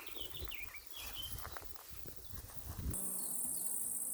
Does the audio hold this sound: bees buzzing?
yes